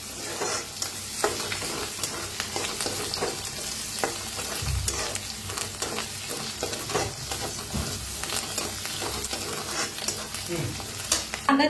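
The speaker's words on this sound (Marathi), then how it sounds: "कांदा छान भाजायला आलाय" Chopped onion frying in hot oil in a pan for matki sambar, with a continuous sizzle broken by repeated scraping stirs and spoon knocks.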